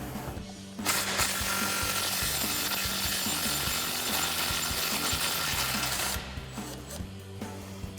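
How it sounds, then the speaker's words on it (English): A 3/8-inch impact gun with a 10mm socket works a bolt loose under a 2017-2025 F-250 Super Duty during a front lift kit install, sounding as a continuous close rattling buzz that stops shortly before the end. "I'm gonna take my 10mm on my 3/8 gun, get up inside here"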